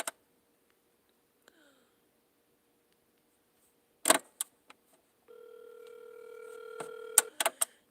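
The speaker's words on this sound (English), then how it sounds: "Let's see if she'll answer the phone." A telephone handset clicks, then a quick burst of dial tones sounds, followed by a steady ringback tone as the call connects. Each part is distinct and close against near silence.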